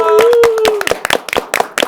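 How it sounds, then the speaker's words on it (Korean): A few people clapping hands in sharp, separate claps that follow a brief sustained voiced tone, close and fairly loud with uneven rhythm. "새해 복, 설날 복 많이 받으시면서 박수를 치겠습니다."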